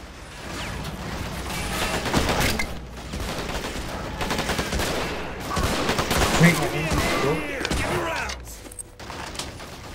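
Gunfire in the online World War II strategy game Men of War: Assault Squad 2, rapid bursts of shots and distant explosions rolling on throughout with a voice in the game mix.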